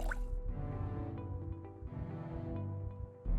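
Water filling a container from a toilet in Project Zomboid, a soft trickling, dripping pour that runs for a few seconds at a low level without talk.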